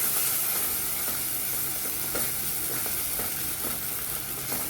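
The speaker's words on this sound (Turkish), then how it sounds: "Şöyle az bir şey ekledikten sonra topakların çözülmesi için güzelce karıştıralım." Mushroom soup being stirred in a pot, a steady bubbling hiss with soft repeated scraping strokes throughout.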